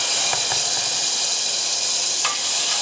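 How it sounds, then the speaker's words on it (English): Garlic and sage sauté in butter with a steady, close sizzle and crackle throughout, punctuated by a few brief clinks of a utensil. "We're going to saute the garlic and the sage."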